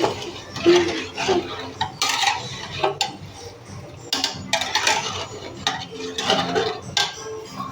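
A spoon stirs semolina halwa with raisins in a pot on the stove, clinking and scraping against the metal in irregular bursts. The stirring is close and fairly loud, with brief quieter pauses.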